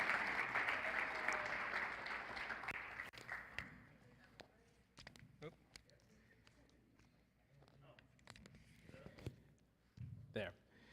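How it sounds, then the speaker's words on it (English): An audience applauds Special Olympics athletes at an awards ceremony for New Mexico law enforcement, a loud burst of clapping that fades after a few seconds into scattered taps and shuffling. "Another round of applause for our Special Olympic athletes."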